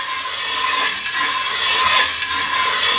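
A ridge reamer cuts the worn ridge at the top of an engine cylinder bore, giving a continuous close, gritty metallic scraping that swells and eases slightly as the cutter is turned around the bore.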